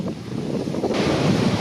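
Strong stormy wind on a seabird coast, a steady roaring rush buffeting the microphone with a surf-like wash underneath, continuous and loud with no voices.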